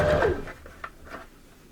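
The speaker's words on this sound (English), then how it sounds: "I'm going forwards and back to close off the seam" A sewing machine runs forwards and back to close off a seam on a three-layer fabric face mask with a nose wire and filter pocket. A louder burst at the start gives way to short, quieter stitching runs.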